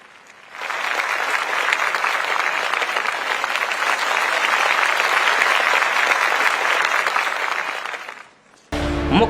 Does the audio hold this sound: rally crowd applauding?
yes